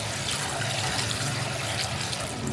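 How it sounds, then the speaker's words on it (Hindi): Tap water runs steadily into a cooking pot of saag greens, filling it for boiling, a continuous close splashing gush with no talk. "इसको पूरा पानी से फिल कर दें।"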